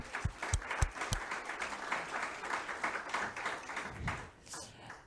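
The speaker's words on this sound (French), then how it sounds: "On peut les applaudir pour le partage." Audience applause for a panel at a French e-commerce round-table conference, a few distinct claps at first swelling into steady clapping, then thinning toward the end.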